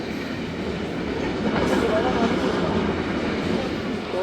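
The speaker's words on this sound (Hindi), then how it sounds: "कंटेनर ट्रेन भी पास हो रही है" A container train rolls past a railway station platform, its steady broadband rumble and wheel noise loud and continuous throughout.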